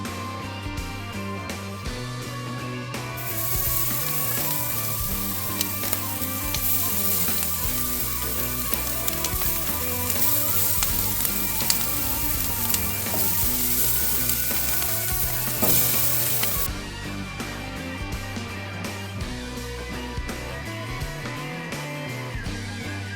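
Yogurt-and-spice marinated chicken on a preheated grill, a steady bright sizzle that runs loud and unbroken for most of the stretch under a layer of background music.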